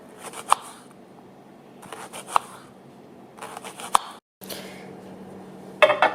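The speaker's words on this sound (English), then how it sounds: "Half onion peeled, and I'm just going to cut little slices from it." A knife slicing thin pieces from a peeled half onion on a cutting board, with about four crisp, separate cuts and board taps spaced a second or two apart, close and fairly quiet.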